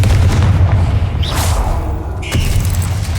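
Hogwarts Legacy's Confringo fire spell in the video game goes off as a heavy booming blast with a whooshing burst, followed by a second sharp impact and rumbling, loud and close.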